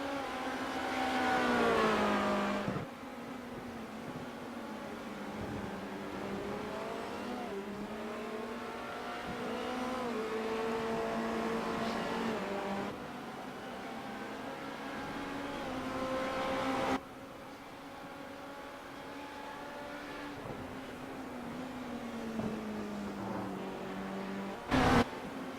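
Race car engines in iRacing at Silverstone, a steady high-revving drone with rising pitch sweeps as the car shifts up through the gears and slows, with brief drops and a sharp click near the end.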